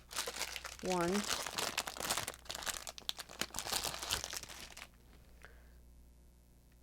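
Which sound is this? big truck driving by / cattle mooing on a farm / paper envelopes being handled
paper envelopes being handled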